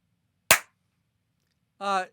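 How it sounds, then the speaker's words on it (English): One sharp, close hand clap in a quiet room, followed by a short voiced sound. "Ju, can you clap your hands too?"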